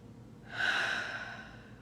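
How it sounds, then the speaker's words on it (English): A single deep, slow breath drawn in and let out close up, rising to a soft swell and then trailing off gently, alone in a quiet room during a guided morning meditation. "Nice deep breath."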